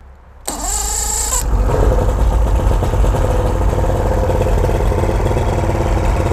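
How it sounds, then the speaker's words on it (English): A choked Basscat boat outboard motor cranks and catches about half a second in, then roars steadily and loudly at close range for the rest of the clip, with no talk over it. "It's gonna be hard to hear me because the motor's so loud"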